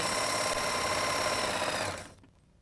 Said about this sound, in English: Now let's try a 4-thread overlock on regular fabric.